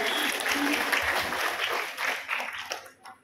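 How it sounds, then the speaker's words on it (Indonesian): A seminar audience at a digital literacy event claps for a woman, a burst of applause that thins and fades out toward the end, with some voices mixed in. "tepuk tangan buat Ibu ya"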